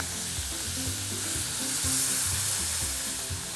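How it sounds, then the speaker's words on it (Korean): Radish and meat stir-fried in a pot give a steady, close sizzle and crackle, with the scrape of stirring rising and falling throughout and no voices. "계속 그냥 볶으시면 돼요"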